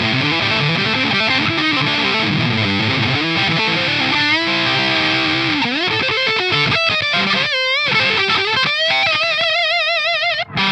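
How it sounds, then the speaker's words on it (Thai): Electric guitar played through a Big Muff fuzz pedal, a thick saturated distorted tone with sustained chords and wobbling bent notes that ring loud and close, alone without talk. "แล้วก็มีอะไรมีมัฟฟัดน่าจะเป็นพวกบิ๊กมัฟ"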